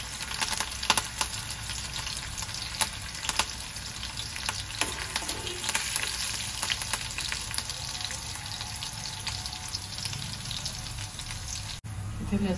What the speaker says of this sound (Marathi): तेलावर आपण लसूण घालूया, 5-6 पाकळ्या मी ठेचून घेतलं होता।